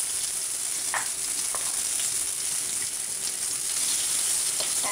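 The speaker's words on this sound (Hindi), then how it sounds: "राई जब क्रैक होने लगे, ये जो आवाज़ आ रही है चट चट की" Mustard seeds crackle in hot oil while cooking rawa upma, a steady frying hiss dotted with sparse, sharp pops close by.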